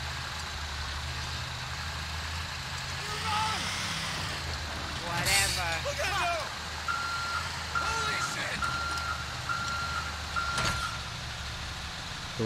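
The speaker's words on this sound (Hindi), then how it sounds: "इस गाड़ी को टो करने की कोशिश करते हैं" A tow truck in GTA 5 idles with a low engine rumble while hooking a stolen Bugatti Veyron, with repeated reversing beeps, clanks and a voice talking over the steady vehicle noise.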